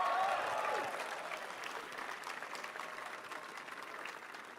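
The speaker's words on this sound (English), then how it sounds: "Give yourselves a round of applause" Applause from an audience at a Tesla Model 3 handover event: loud clapping from many hands that fades to a steady, softer patter.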